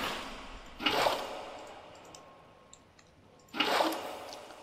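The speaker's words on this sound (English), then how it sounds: "And just fill this up with water" Water placed from an infinite water source in Minecraft makes two short watery splashing swooshes, about three seconds apart, each fading quickly into near silence.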